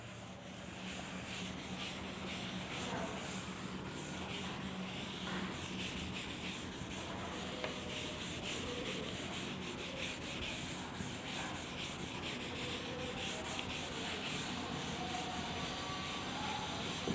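A board is rubbed clean of a diagram in a physics classroom, a steady, close, dry scrubbing sound that carries on evenly without pause for well over fifteen seconds.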